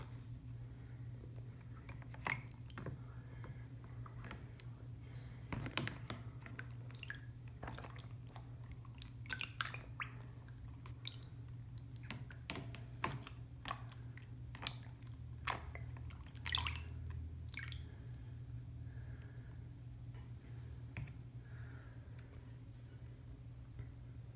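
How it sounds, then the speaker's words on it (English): Water drips and trickles down a kitchen counter as scattered, faint drops and small splats. A low steady hum sits beneath them, and there is no talking. "there's water all over the counter. It's dripping down the counter."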